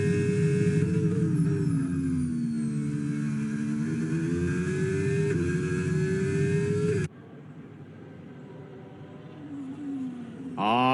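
A race car engine on a video game qualifying lap holds a high, steady whine that rises and dips with gear changes. It then drops to a quieter, rougher drone before revving up again at the end.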